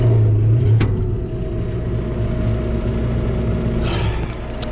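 A tractor in first gear and four-wheel drive, its engine running loud and close with a steady low drone that swells slightly as it revs, with a few faint clanks.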